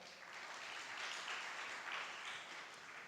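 A church audience claps together during a sermon: a steady, even wash of many hands lasting about three seconds at low volume, with no speech.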